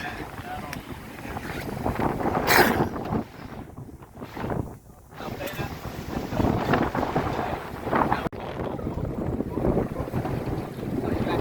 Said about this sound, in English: Well, it's a really, really blustery day today.